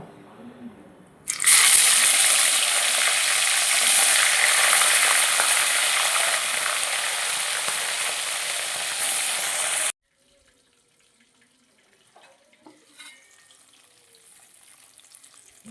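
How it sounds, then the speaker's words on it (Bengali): Hilsa fish pieces drop into hot oil in a wok and burst into a loud, steady sizzle that runs for about eight seconds, then cuts off, leaving quiet clinks and faint kitchen sounds. "এবার আমি মাছগুলো এক এক করে দিয়ে দেব।"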